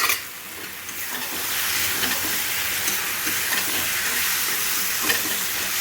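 Boiled potatoes tipped into a hot cooking pan, bringing a brief rustle followed by a broad, steady hissing sizzle that holds evenly to the end, no talk.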